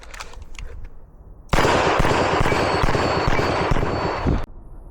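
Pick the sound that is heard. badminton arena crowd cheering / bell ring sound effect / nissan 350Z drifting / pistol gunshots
pistol gunshots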